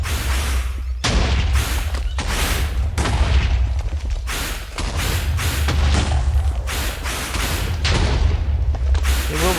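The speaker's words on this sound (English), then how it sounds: "So the thing about the Wither's attack is because it's explosive, it certainly counts as an area attack." Explosive attacks from the Wither boss in Minecraft, fought against giant mobs, with a dense barrage of booming blasts and crackling impacts repeating steadily throughout at loud, close range.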